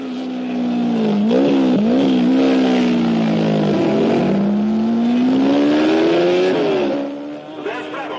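1960s Ferrari and Brabham race cars roar hard past the pits, engines climbing and dipping in pitch as they accelerate, loud and close before fading at the end.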